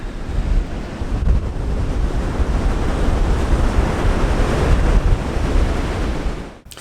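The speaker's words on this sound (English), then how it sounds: "The noise of the wind, the noise of the waves" Strong wind after a storm buffets the microphone over a steady roar of ocean waves breaking on the shore, loud and continuous throughout.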